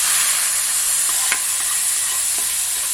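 Asafoetida tempering poured into a cashew apple curry gives a bright, steady hiss of sizzling oil up close, with a few sharp clicks and a brief splash near the middle.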